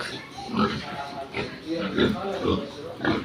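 Pigs grunt and oink in repeated bursts up close in a pen, 2- and 3-month-old piglets raised on Pigrolac feed, with a person speaking over the animals.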